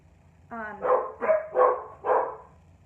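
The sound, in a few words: dogs barking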